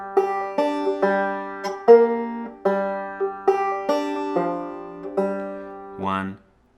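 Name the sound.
two-finger banjo playing Pretty Polly, measures 1 and 2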